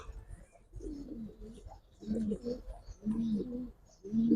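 Giribaz racing pigeons in a loft coo in soft, repeated throaty phrases, several bursts in a row close by, while people talk quietly in the background.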